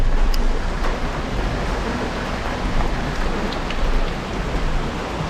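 Dense, steady hiss of monsoon rain in the Konkan falling on surfaces, with faint scattered drips over a low continuous wash, no voices.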